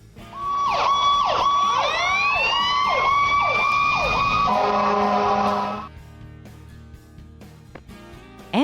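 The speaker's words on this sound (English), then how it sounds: "Fire engine." A fire engine siren wails loudly and close, starting with rapid repeated rising-and-falling yelps, then switching to long sweeping tones before cutting off abruptly and leaving near quiet.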